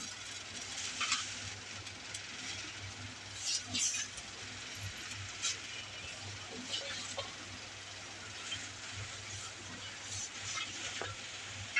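Spices stirred in a hot frying pan give a continuous low sizzle, broken by occasional louder scraping and stirring bursts, with a faint steady hum running underneath throughout.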